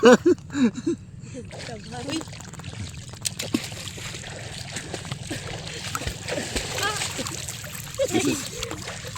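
Water splashes steadily at a lake in Laguna, close and continuous, with voices talking over it at the start and again near the end.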